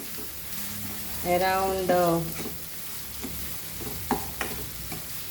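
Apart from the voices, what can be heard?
Goan potato bhaji frying and being stirred in pan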